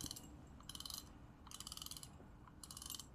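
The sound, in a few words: fishing reel drag clicking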